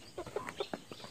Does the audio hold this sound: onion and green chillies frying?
no